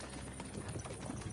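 Horses trot in Kingdom Come Deliverance 2, a steady rapid clip-clop of hooves close by with no voices over it.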